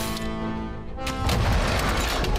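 Explosion in RoboCop: Rogue City, a dense roaring burst that swells and fills the second half after a sustained tonal hum, loud and close with no talk.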